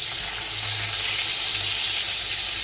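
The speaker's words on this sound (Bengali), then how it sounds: "আর মাছটা ভাজা হচ্ছে" Fish fries in hot oil in a pan, giving a steady, close, even sizzling hiss that holds at the same level from start to finish with no voices.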